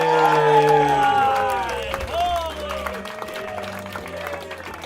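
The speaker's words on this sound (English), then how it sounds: "Start clapping right now for Geoffrey Asmus" A comedy club audience in Chicago claps and cheers as a stand-up comedian is introduced, loud sustained applause with whoops, while an amplified voice talks over the crowd.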